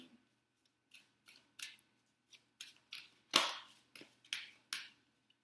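Cards are shuffled by hand, giving a series of soft, crisp slaps and snaps at an uneven pace, close by and otherwise quiet.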